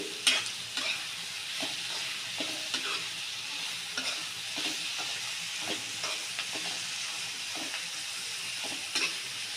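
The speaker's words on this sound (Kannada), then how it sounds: "ಈಗ ಫ್ರೈ ಆಗ್ತಿದ್ದಂಗೆ ಕರಿಬೇವು ಹಾಕೋದು ಒಂದ್ಸಲ ಟ್ರೈ ಮಾಡಿ ನೋಡಿ ಸೂಪರ್ ಆಗಿರ್ತು ಚಟ್ನಿ" Tomato chutney frying in a pan with curry leaves, a steady sizzle with repeated stirring scrapes and taps throughout, close and fairly loud, no voices.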